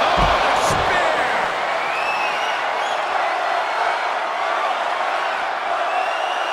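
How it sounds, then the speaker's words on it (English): A packed arena crowd roars continuously throughout a Def Jam wrestling-style video game fight, with a dense, steady wash of cheering and a couple of sharp impact thuds near the start. "The sound of this crowd is deafening."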